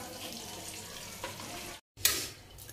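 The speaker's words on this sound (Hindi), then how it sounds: "तो मिर्च और लहसुन को हमने अभी फ्राई किया है इसलिए ये है बहुत ज्यादा गर्म" Green chillies and garlic frying in a pan over medium-high flame, a steady broadband sizzle with a brief cut out and a sharp louder burst of spattering near the end.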